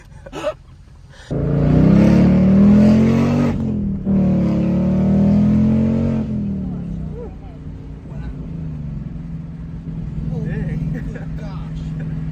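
A Ford Mustang 5.0 with an H-pipe exhaust pulls hard from inside the cabin, its engine droning loudly through two rising surges with a shift between them, then easing back to a lower hum while occupants talk.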